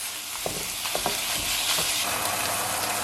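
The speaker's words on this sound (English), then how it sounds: "I'm just going to go ahead and brown my meat." Meat browning in a frying pan, a constant sizzle with scattered crackles and stirring scrapes, close and alone with no talk.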